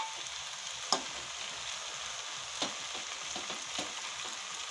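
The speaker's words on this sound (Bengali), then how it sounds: "সে ভাজা চিকেনগুলা।" Fried chicken pieces sizzling in a hot pan of chow mein give a steady hiss of frying, broken by a few sharp taps and scrapes of stirring, with no talking.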